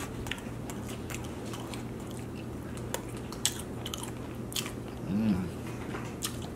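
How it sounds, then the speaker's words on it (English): Close-up chewing of sushi rolls, with soft wet mouth sounds and occasional faint crunches at a steady rhythm over a low constant background hum. "Eating sushi rolls!"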